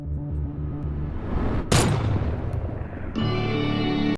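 A gunshot from a film scene: one sharp, loud bang cuts through a low rumbling score and decays into a reverberant tail, with no talk.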